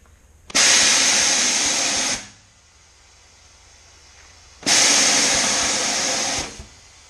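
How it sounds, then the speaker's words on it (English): A bazooka-style tire bead blaster cannon fires two loud, close blasts of air into a tire, each a roaring hiss lasting about two seconds, separated by a quiet pause. "the air will blast up from the bottom and go inside"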